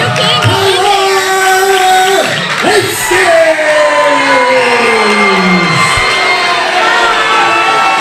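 A capacity crowd at a 1CW pro wrestling show cheers, yells and whoops loudly and continuously, with shouted voices rising and falling through the roar.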